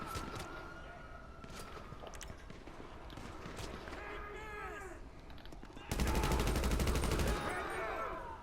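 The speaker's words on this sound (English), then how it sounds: "if I fire my grenade launcher at any point, this is as fast as it fires" Grenade launcher firing rapidly in GTA V, a burst of dense repeated shots starting partway through and lasting a couple of seconds, loud and close over a busy game soundscape.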